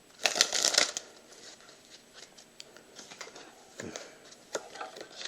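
A Bicycle Irregular deck of playing cards being shuffled by hand, a quick burst of riffling rustle up front followed by lighter scattered card flicks and taps, close and fairly quiet.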